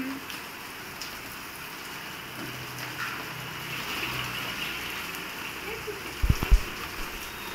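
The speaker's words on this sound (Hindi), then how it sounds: "देखो बारिश आ रही है," Rain falls on a Delhi street as a soft, continuous hiss and patter, fairly distant and even, with a few close thumps near the end.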